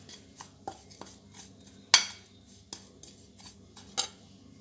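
Ground coriander, cumin and tandoori masala being mixed in a bowl for chicken kababs, heard as sparse, light clinks and scrapes of a spoon against the bowl, with two sharper knocks standing out, close and fairly quiet.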